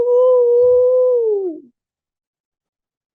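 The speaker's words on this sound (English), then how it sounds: "you could swear you hear some wolves howl off in the distance" A single long wolf howl from the woods, steady and sustained for over a second before sliding down and fading, with a brief spoken word beneath it and silence after.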